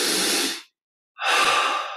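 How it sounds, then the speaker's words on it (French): Two long, deep breaths pass through the mouth during a guided meditation, close and breathy, separated by a brief silent pause, with no talking. "expire par la bouche."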